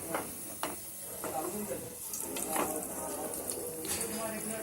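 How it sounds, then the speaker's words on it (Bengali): A potato Mughlai paratha fries slowly in a pan with a faint, steady hissing sizzle, broken by a few soft clicks of stirring or turning, heard close but at low volume. "আস্তে আস্তে পরোটাগুলোকে ভেজে নিতে হবে"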